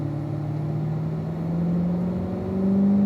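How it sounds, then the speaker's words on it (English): A car with an automatic transmission accelerating onto a racetrack, its engine drone rising steadily in pitch and loudness from inside the cabin, continuous and without speech. "Making our way up through the gears"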